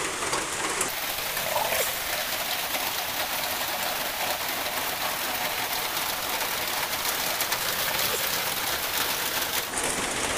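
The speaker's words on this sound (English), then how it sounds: "it's raining so much" Heavy rain pours steadily and loudly throughout, a dense unbroken hiss with faint bird calls in the background.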